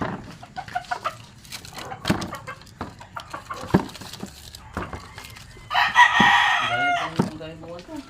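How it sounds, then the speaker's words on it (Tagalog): A chicken clucks in short scattered bursts, then a rooster crows loudly nearby, with people talking intermittently in the background. "Yung manok talaga."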